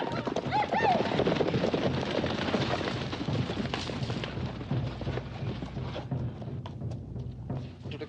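Horse hooves clip-clop in a Western film scene, a steady rhythmic clatter mixed into a busy soundtrack with music and other noise, fairly loud throughout.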